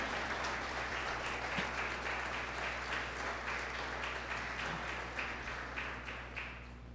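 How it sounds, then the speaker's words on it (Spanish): A church congregation claps steadily together for several seconds, a dense, even wash of applause in a reverberant room with a low hum beneath. "Denle un aplauso al Señor"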